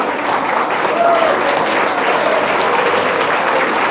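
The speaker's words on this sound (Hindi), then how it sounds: "जोरदार तालियां होनी चाहिए" Sustained, loud applause from a large audience at a santoor and tabla concert rolls on evenly for several seconds, with a faint voice briefly audible beneath it.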